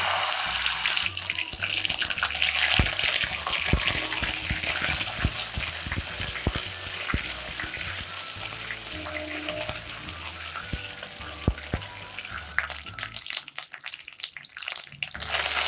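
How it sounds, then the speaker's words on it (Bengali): A spoonful of ginger paste fries in hot oil with a dried red chilli, a loud crackling sizzle mixed with scraping stirs that fades quieter at the very end. "আমি তেলের মধ্যে 1 চামচ আদা বাটা দিয়ে দিলাম"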